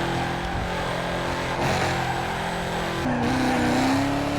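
Corvette Z06 in the Need for Speed Carbon video game, its aggressive engine roaring steadily with a rising rev and tire squeal toward the end, loud and continuous.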